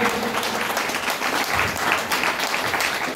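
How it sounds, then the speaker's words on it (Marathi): A crowd at a gathering claps loudly and continuously, a dense, steady wash of applause that holds at full strength throughout. "जोरात टाळ्या वाजवायच्या"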